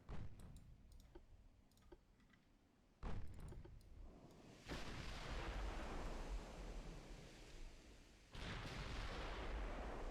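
Enemy warships in the naval game Ultimate Admiral fire their guns: a few faint clicks give way to three heavy booms, each rolling into a long, loud rumble like distant surf.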